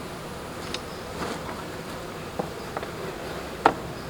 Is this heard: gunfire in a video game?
no